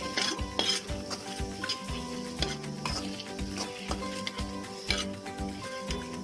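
A spoon stirs coriander seeds, dried chillies and coconut dry-roasting in a hot kadai, giving repeated metallic scrapes and clinks over a faint sizzle, close up and rhythmic.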